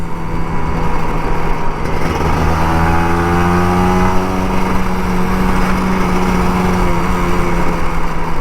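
An older Kawasaki Ninja RR 150 motorcycle engine revs on an uncongested Jakarta workday morning, a steady, close, loud drone whose pitch climbs through the middle as the throttle opens, with no talking.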